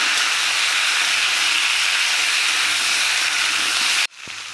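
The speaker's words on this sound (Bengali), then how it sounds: "দেখো এবার আমি গাজর আর বেগুন দিয়েছি, এটাকে আবার একটু ভেজে নেব" Carrots and eggplant fry in a pan with bean and kohlrabi for a shrimp labra, giving a loud, steady sizzling hiss that runs unbroken for about four seconds before cutting off abruptly, with a faint low hum beneath.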